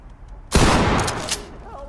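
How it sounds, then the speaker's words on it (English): A breaching shotgun fires once in the tactical shooter Ready or Not, a sudden loud close blast followed by a short ringing tail and quieter room noise. "use our breaching shotgun."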